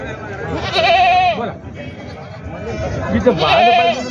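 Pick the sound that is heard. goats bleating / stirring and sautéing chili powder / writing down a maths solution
goats bleating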